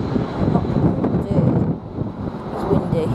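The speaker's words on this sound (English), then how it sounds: "It's windy." Steady wind rumbles and buffets at Heathrow Airport throughout, a broad low roar with gusty swells that stays loud for the whole stretch.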